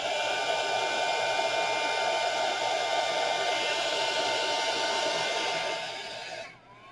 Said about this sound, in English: And hit him with the heat gun.